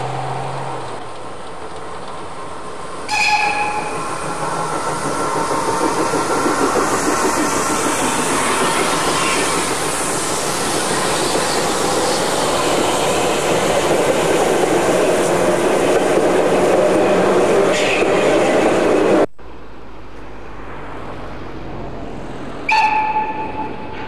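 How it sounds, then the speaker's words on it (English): A steam train in the Harz Mountains, led by an 1897 Mallet tank engine, rumbles past with a loud, steady chuffing roar, and shrill whistle blasts sound near the start and end. "The leading engine is a Mallett tank engine dating from 1897, one of the three Malletts working on the line."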